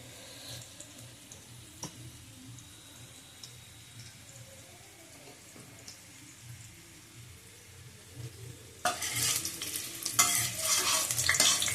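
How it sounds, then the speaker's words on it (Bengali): Potatoes fry quietly in a pan for a few seconds with occasional light clicks, then the sizzle swells into a loud, crackling hiss with stirring toward the end. "আলুটা ভেজে নিচ্ছি"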